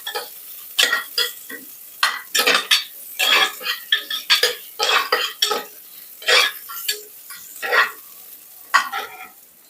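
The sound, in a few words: frying ingredients for chicken sambar in a pan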